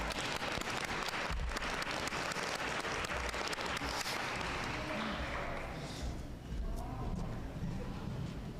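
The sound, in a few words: round of applause for executive committee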